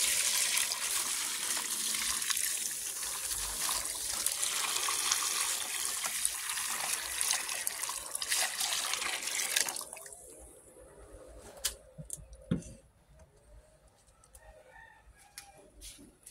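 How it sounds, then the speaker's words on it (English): Very warm water poured into a container for cleaning an old silverplate butter dish, a loud continuous splashing pour that stops partway through, followed by scattered drips, small knocks and a few rooster crows. "Let's pour in our very warm water."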